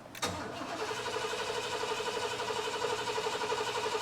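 Engine of an old Chevy Caprice cranked over, a sharp start followed by a steady, loud running drone with a constant mid-pitched hum and rhythmic pulsing, close by with no talk.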